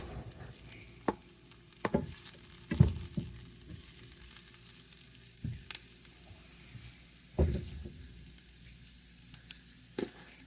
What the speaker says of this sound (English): So now I'm going to put my ground sausage in.